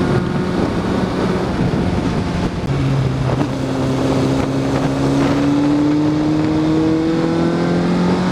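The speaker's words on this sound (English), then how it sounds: "we're running into some crap traffic now." Steady engine drone from a modified Honda CB600 motorcycle riding through road traffic near Heyuan, Guangdong, with rising and falling engine tones and constant wind rush over the microphone, no talking.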